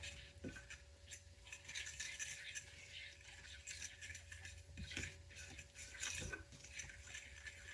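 Summer squash casserole ingredients with cheese and milk get mixed in a dish, producing a quiet, continuous scraping and stirring with occasional light clinks of a utensil, close and faint.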